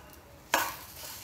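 A brief scraping stir as sugar is mixed into semolina and pineapple sheera in ghee over low heat, one soft swish after a quiet start.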